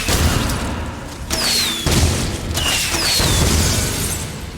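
Firework launcher blasts in the video game Dead Rising 2 land as loud booms and thuds, two whistling streaks trailing across dense, continuous combat noise.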